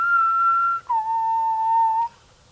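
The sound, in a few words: whistle imitation, high then low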